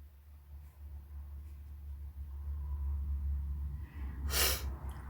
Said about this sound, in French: Je m'excuse si je renifle.